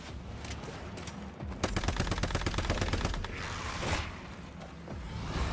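A boss in the video game Once Human fires rapid bursts of gunfire. Dense mechanical rattling volleys fill the middle stretch, with shorter shots before and after.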